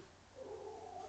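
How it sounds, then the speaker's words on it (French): A pet cat named Flocon gives one drawn-out meow close by indoors, rising out of a quiet room and ending with a sharp click. "C'est mon chat qui me parle."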